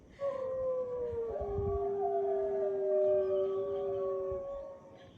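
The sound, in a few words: gray wolves howling, played by a smart speaker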